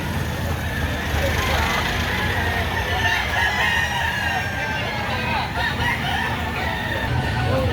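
Roosters at a Saturday gamefowl market in Lipa City, Batangas crow amid a dense, noisy crowd, the calls blending into loud steady market chatter with people talking throughout.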